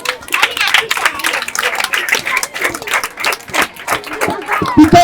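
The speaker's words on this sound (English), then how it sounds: "Can we also clap for the people of Canada?" Audience at a school feeding program event in Kissi Town, Waterloo, Sierra Leone, clapping in a dense, uneven patter close by, with voices mixed in.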